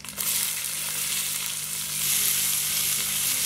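Onion hits hot oil already crackling with mustard seeds, dried red chilies and cumin. A loud, dense sizzle starts abruptly and holds steady nearby, with no speech over it.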